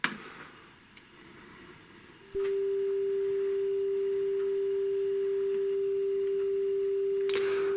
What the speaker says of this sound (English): So test tones are coming